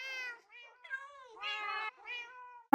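Cats in the video game Minecraft meow in a quick series of several harmonic, drawn-out calls, loud and close with brief gaps between them, no talk.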